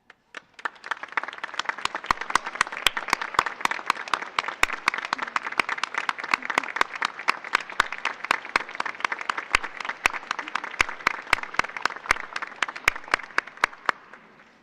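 An audience at a collegiate academy ceremony applauds steadily for about fifteen seconds, with dense clapping and sharp individual claps standing out, fairly close and even, tapering off at the end.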